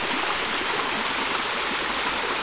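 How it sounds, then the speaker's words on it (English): Water pouring out of a rock, a loud, steady rushing flow like a stream or small waterfall, constant and close with no talking. "the water is just coming out of a rock"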